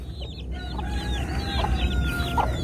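A mother hen that lives outdoors with her brood of chicks clucks softly and repeatedly nearby, with faint chirps layered over a low background rumble.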